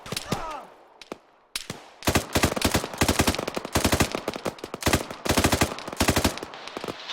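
Bursts of automatic rifle fire in an Arma 3 firefight, loud and close, rattling in rapid repeated volleys after a brief quiet start, with faint radio chatter at the beginning.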